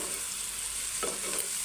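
Cauliflower fry with onion, green chilies and herbs being stirred in a pan over medium flame: a faint, steady sizzle with a single soft scrape of the spoon partway through.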